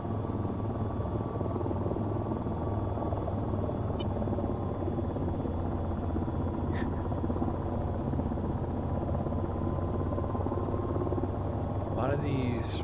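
A jet-engine tilt-rotor aircraft in the VTOL VR game drones with a steady low engine roar and hum throughout, with a brief rising whine near the end.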